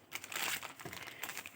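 Plastic bags of Chef cake mix crinkle softly while being handled, a quiet rustle that swells briefly and then continues in light, scattered crackles without speech.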